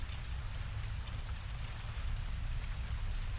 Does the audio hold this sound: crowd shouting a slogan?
no